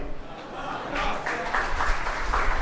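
Scattered applause from an audience at a spiritual discourse, a steady patter of clapping that swells slightly partway through amid a murmuring crowd.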